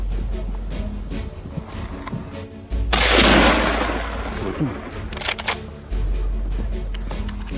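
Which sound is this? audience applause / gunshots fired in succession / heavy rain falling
gunshots fired in succession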